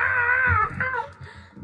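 A person imitates a cat's high, strained wail in one long moaning cry that wavers and trails off, close and fairly loud.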